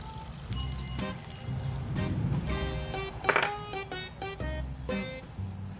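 Half a glass of water poured into a pan of pork giniling with potatoes and a chicken cube, a splashing pour running for a few seconds with clinks of cookware, close and fairly loud.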